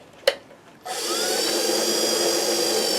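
A wood lathe spins up after a sharp click and then runs steadily with a smooth, even motor hum while a turned piece is sanded, the tone holding constant and fairly close.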